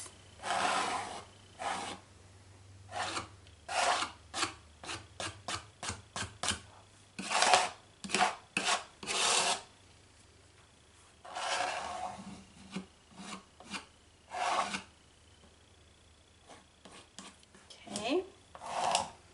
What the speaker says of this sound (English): Just scraping it in on the sides.